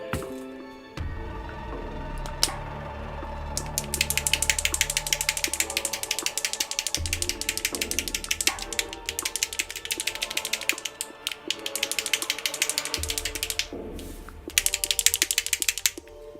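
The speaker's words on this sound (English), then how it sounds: "I've got some stainless steel balls to make sure it gets properly mixed up when shaking" Stainless steel agitator balls rattle inside a shaken paint bottle, a fast continuous clicking rattle in bursts across the whole stretch, with brief pauses between shakes and a low hum underneath.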